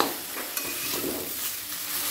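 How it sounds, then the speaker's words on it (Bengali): Fried mixed vegetables with cauliflower and cabbage leaves are tossed in a hot pan, producing a continuous dense sizzle with soft stirring scrapes and one brief clack. "ফুলকপি আর বাঁধাকপি পাতা সবজির সাথে ভালো করে মিশিয়ে নেব।"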